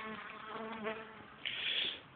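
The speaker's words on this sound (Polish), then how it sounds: "Z rana osy wchodzą, ale o, jest walka." Wasps attack a beehive while the bees fight back, a dense close buzzing of many insect wings humming and droning together, swelling into a higher, more agitated whine near the end.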